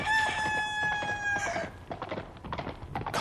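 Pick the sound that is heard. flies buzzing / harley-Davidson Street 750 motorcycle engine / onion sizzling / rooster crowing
rooster crowing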